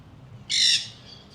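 A single loud, harsh parrot squawk in a park in Argentina, one short shrill burst standing out against a quiet background hum.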